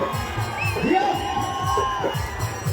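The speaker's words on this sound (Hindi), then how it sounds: "मैं एक बार फिर से चाहूंगा कि उस बच्ची के लिए जोरदार ताली हो जाए" Audience at a Bhojpuri stage show cheering for a young girl: a lively crowd roar with whoops and shouts, high voices rising over steady background noise and music throughout.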